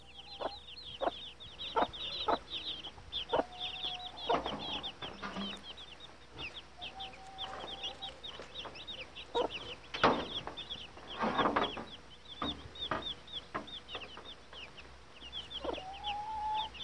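Chickens cluck in a busy, overlapping chorus, with sharp repeated calls and occasional louder squawks close by, alone without voices.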